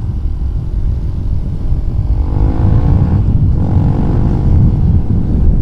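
Honda CRF 150 supermoto motorcycle engine rumbling steadily throughout a test ride, with a low, continuous drone that swells slightly in the middle and carries faint rising and falling tones, no talk over it.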